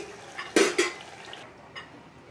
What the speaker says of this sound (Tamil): இப்போ நம்ம சிம்மில் வச்சு குக்கரை க்ளோஸ் பண்ணிடலாம்.